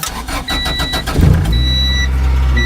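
The engine of a 1992 Honda Civic revs briefly, then settles into a steady, loud, high idle near 1500 rpm, recorded close up with a thin whine running over the drone.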